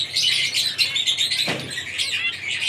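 Java sparrow chicks in a breeder colony give a dense, continuous stream of high, thin chirps and tweets, moderately close with no talk.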